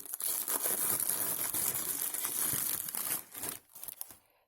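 Continuous crinkling and rustling of paper being unwrapped, close and fairly loud, easing into a few scattered crackles at the end.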